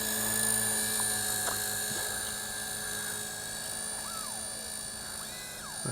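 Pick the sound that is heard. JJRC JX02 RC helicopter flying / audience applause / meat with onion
JJRC JX02 RC helicopter flying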